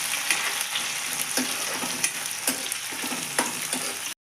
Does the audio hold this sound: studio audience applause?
no